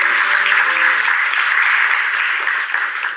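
Studio audience applause on a game show, a loud, dense burst of clapping that fills the moment alone and then tapers slightly.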